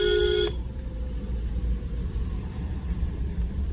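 A 2022 Mahindra Bolero Neo climbs a hill off-road in third gear, its engine a steady low rumble; a short beep-like tone sounds at the very start, then the engine drones on alone.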